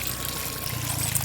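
Water pours steadily into a homemade model waterfall, a brief continuous splashing flow with no voices.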